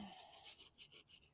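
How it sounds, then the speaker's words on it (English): A wire brush scrubs the pulley of a 2011 Troy-Bilt 21-inch self-propelled lawn mower, giving repeated close, rasping back-and-forth strokes in a quick rhythm. "I'm going to clean up the pulley a little bit here with a wire brush."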